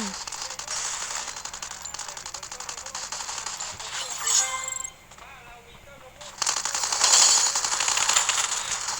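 Rapid bursts of automatic gunfire from a video game crackle through most of the stretch, fairly loud and dense, with a brief lull midway before the shooting picks up again.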